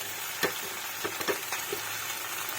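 Grated ginger dropped into a pot of cooking khichuri, a steady close sizzle of frying with a few sharp crackles and stirring scrapes scattered through it.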